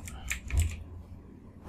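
Several quick key clicks from typing a file name on a computer keyboard, a short cluster of taps followed by a pause and a sharper final keystroke, close and fairly quiet with no talk.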